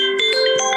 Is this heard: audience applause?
no